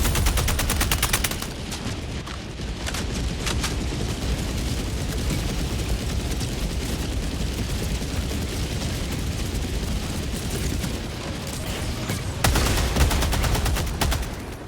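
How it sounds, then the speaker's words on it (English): An orbital barrage in the Helldivers 2 bot mission pounds down as a sustained roar of heavy explosions and rapid gunfire, with loud sharp impacts at the start and a fresh burst of blasts near the end. "Requesting orbital! Orbital barrage incoming."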